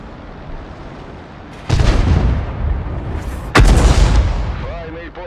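A leFH18B2 artillery gun fires twice in a video game: two loud, heavy booms that trail off into rumbling rolls, standing clearly over a low background bed.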